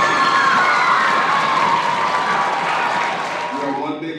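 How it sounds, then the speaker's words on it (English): A large crowd at an elementary school speakers' event breaks into loud applause and cheering, with children shouting, sustained and close before fading slightly at the end. "clap it up for them."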